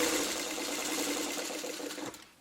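A sewing machine stitches a flip-and-stitch spool quilt block in one steady, loud, close whirring run that winds down at the end, with no talking.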